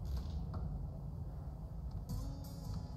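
Door creaking open in the survival video game The Day Before, a long, low, strained creak with mechanical grinding under a constant background hum, fairly quiet and without speech.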